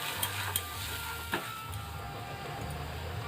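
A chhena filling mixed with flour and milk powder being stirred in a pan, quiet soft scraping with a few light clicks of the utensil against the pan over a faint steady background.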